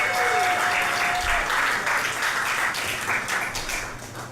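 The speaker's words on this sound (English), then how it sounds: "Let's give him a big round of applause." Dense, steady audience applause at a live theatrical show, loud and sustained throughout, slowly thinning near the end, with a brief voice heard at the start.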